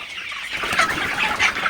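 Sonali super hybrid chickens, about fifty days old, cluck in a farm shed, with a steady, busy flock noise rising after a quieter opening and no talking.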